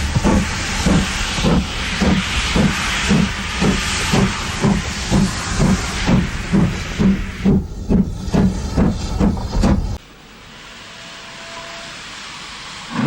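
A steam locomotive hauls empty coaching stock out of a station platform, its wheels slipping: loud, quick, regular chuffs pound for about ten seconds, then cut off and leave a quieter hiss.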